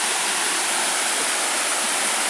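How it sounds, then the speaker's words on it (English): Greenstone Falls in Michigan's Porcupine Mountains roars as a steady, dense broadband rush of falling water, close and loud, with no voices over it. "in a short distance, we'll see Greenstone Falls. That's one of my favorite waterfalls around here."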